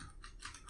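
Quick, soft keystrokes on a computer keyboard in a short close-up burst of three or four taps, with no voice present.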